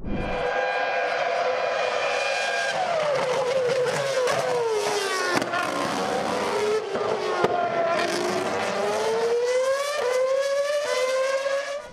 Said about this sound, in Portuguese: um trechinho de um carro com um controle de tração acelerando